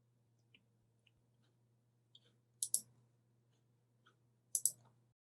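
Mouse clicks sound during computer setup as a store setup wizard is opened, with a few faint, sparse single clicks and two crisper double clicks against a quiet background hum.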